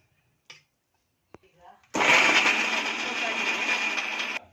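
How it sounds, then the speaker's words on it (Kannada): A mixer grinder grinding soaked tamarind with turmeric powder, starting abruptly after a few clicks and handling noises and then roaring at a steady loud pitch for a couple of seconds before cutting off. "ನೋಡಿ, ರುಬ್ಬಕ್ಕೆ ಹಾಕ್ಕೊತಾ ಇದ್ದೀನಿ."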